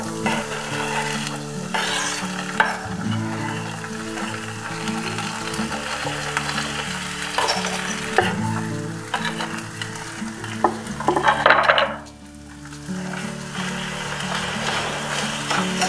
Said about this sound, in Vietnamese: Cho hết tất cả đậu bắp vào xào các bạn.